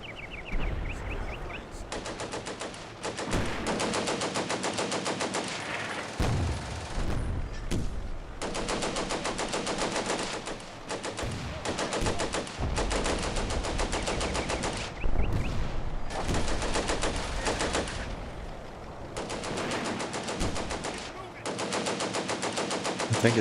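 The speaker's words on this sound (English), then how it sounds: "I don't know why the machine gun is firing at the tank." Sustained machine-gun fire from the WWII tactical game Combat Mission: Beyond Overlord, loud and near, rattling in long bursts with brief gaps across the whole stretch, aimed at a tank at La Fiere.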